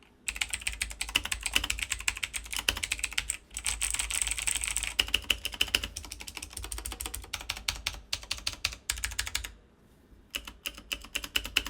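Fast, steady typing on a Redragon K552 mechanical keyboard with blue switches, sharp clicky keystrokes in dense bursts with a brief pause near the end, recorded close and alone.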